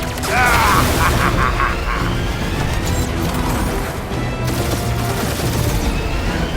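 Gunfire and impacts crackle through a chaotic firefight in Guardians of the Galaxy, with bursts of shots and crashing hits piling up continuously under loud combat noise, while a few voices call out in between.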